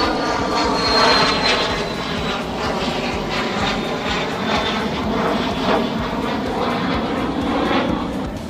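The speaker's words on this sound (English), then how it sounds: "And here comes a plane." An airplane engine roars overhead in a loud, continuous drone that holds steady for the whole stretch, with no voices over it.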